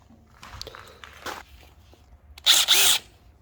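Power driver sinking GRK structural screws into wood for a garage loft, one short loud burst of whirring near the end after quieter handling and shuffling noises.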